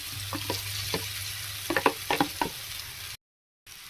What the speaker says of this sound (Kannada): ಇವಾಗ ನಾನು ಸ್ಮ್ಯಾಶ್ ಮಾಡಿ ಇಟ್ಕೊಂಡಿರೋ ಆಲೂಗಡ್ಡೆನ ಹಾಕ್ತಾ ಇದ್ದೀನಿ